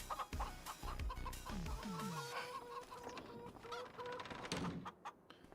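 Chickens cluck and squawk in a Farming Simulator 25 barn, a close, busy mix of calls with a crow-like cry partway through and a few clattering thumps.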